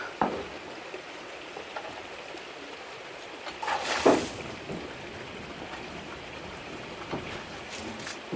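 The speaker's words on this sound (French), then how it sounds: "Là ça commence à pleuvoir sévère." Heavy rain with large drops falling during a spring downpour, heard from under shelter on a balcony: a constant hissing patter, with a louder splashing burst partway through, and no voices.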